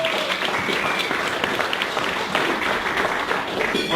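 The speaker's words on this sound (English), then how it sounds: "let's give Charlie a big round of applause and welcome him to LA2M" An audience at an LA2M meetup in LA claps to welcome a speaker, a full, sustained round of applause from a roomful of people, even and continuous throughout.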